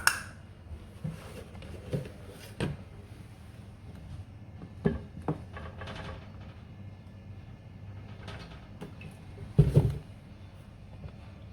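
Metal pot clanks and scrapes now and then as oil is added for frying, against a low background hum, with a louder clatter of cookware near the end.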